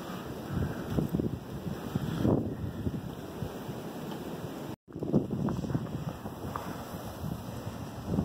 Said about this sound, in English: the wind is not very friendly